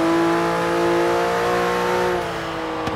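A Porsche 911 Turbo S (991) engine in the Forza Horizon 3 racing game holds a steady, loud rev with a tonal whine before easing off near the end.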